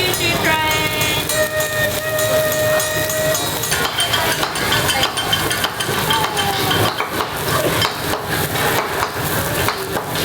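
Loud steam hisses from a teppanyaki grill's onion-ring volcano train at a Japanese restaurant, mixed with clattering utensils, tonal whistles and busy dining-room noise.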